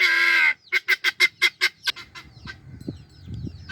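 Ducks on a farm give a loud, sustained honk, then a rapid run of about seven sharp quacks, trailing into softer, scattered calls and low background noise.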